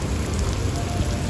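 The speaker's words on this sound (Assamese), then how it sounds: "এতিয়া বৰষুণত বহি আছোঁ মই। পুৰা বৰষুণ দি আছে" Heavy rain pours in Dubai, heard from shelter beneath a building as a dense, even hiss of drops striking surfaces. It is loud and constant, with no voices.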